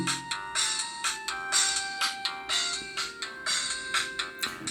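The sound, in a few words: polyphonic mobile phone ringtone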